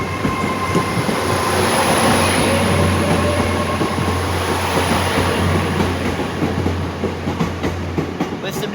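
Passenger train on a service to Plymouth rumbles along steadily, heard from on board with a constant low hum, rhythmic wheel noise and occasional faint squeal, loud and unbroken throughout.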